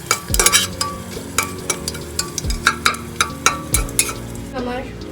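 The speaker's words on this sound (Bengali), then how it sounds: "আমি এখানে ফোড়ন দিয়ে দিয়েছি জিরে, শুকনো লঙ্কা, শুকনো লঙ্কা, তেজপাতা আর হচ্ছে আদা" Cumin, dried red chillies, bay leaf and ginger tempering in hot oil in a home kitchen, with a steady sizzle under repeated scraping and clinking of a spoon against the pan, several sharp stirs at close range.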